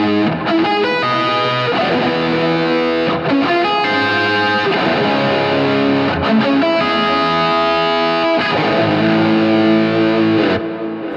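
Distorted electric guitar playing a fast tapped lick built on major 7th chords, a continuous run of bright ringing notes through an effects unit with a hint of chorus, loud and alone with no talking.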